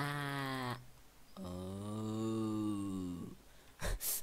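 Two drawn-out, wavering sheep bleats from the Minecraft Sheepwars game, each lasting about a second or two, followed by a brief soft thump.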